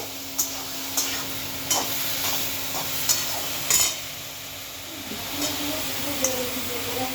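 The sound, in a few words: spices stirred and sautéed with vegetables in a pan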